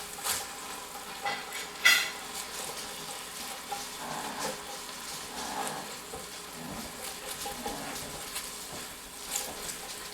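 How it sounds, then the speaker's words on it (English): Vegetables and minced garlic sizzling in a pan while being stirred, a soft, steady fry with occasional scraping clinks, fairly quiet and without speech. "I'm going to cook those until the vegetables are translucent."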